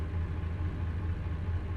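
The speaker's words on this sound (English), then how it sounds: "Tapping the gas pedal starts the engine." A truck engine runs after starting from a tap on the gas pedal, giving a steady low rumble that sounds close and continuous, with no talking.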